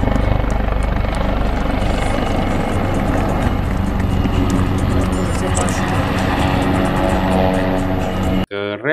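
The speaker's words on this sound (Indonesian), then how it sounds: "Wow, lihat ada helikopter." Steady, loud rotor and engine drone of a helicopter filling the whole stretch, cutting off abruptly just before the end.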